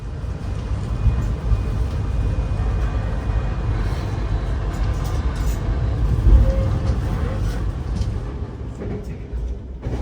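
Interior of the Tawang Jaya Premium passenger train running toward Pasar Senen station in Jakarta, a steady low rumble and rattle of the carriage continuing throughout with faint hum.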